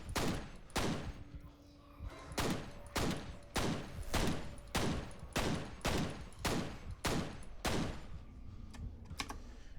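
Gunshots ring out in the first-person shooter F.E.A.R. as the player aims for headshots, about a dozen sharp, loud reports spaced roughly evenly, each with a short tail, over a quiet game background.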